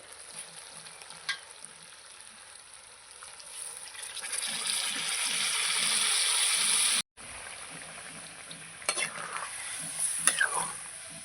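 Hot water poured into sizzling mutton curry in a pan, a loud rushing sizzle swelling for several seconds and cutting off abruptly, then softer bubbling and scraping stirs with a few clinks.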